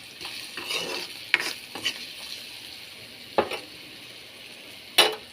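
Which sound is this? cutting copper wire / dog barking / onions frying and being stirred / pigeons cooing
onions frying and being stirred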